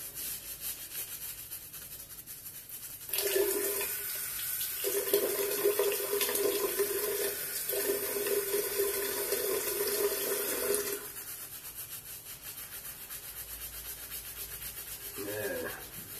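A tap runs water into a sink during a wet shave with a double-edge safety razor, starting after a few seconds and flowing steadily for about eight seconds before stopping, with faint handling noises around it.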